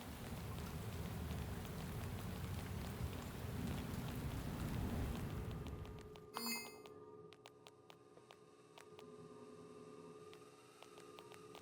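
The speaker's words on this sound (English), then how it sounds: "Oh God, it's raining." Rain in the detective video game Shadows of Doubt, a steady dense hiss of falling rain for about six seconds that then cuts out abruptly, leaving quieter ambient tones with faint drips.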